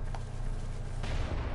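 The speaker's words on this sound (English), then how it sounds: "Cannon!" A Bloodborne cannon booms amid combat against Church Guardians, a deep low-end blast with a brighter crack near the end of the short burst, loud and close over the game's constant rumble.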